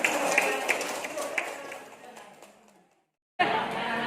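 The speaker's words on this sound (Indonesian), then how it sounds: "Boleh tepuk tangan untuk tadi Bapak Ibu yang sudah menyampaikan." Audience applause at a seminar in Karawang, a dense patter of clapping that fades over about three seconds, cuts to silence, then bursts back loudly, with voices mixed in.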